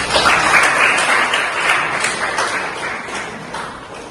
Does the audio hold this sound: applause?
yes